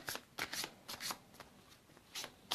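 Tarot cards being shuffled in several quick riffling bursts, close and fairly quiet, with short pauses between each burst.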